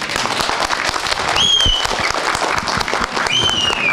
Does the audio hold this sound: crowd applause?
yes